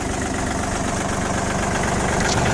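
A Kubota ZL1245 mini tractor fitted with a snow-blower auger idles steadily up close, a loud, even diesel chug with a fine rapid knock and no speech over it.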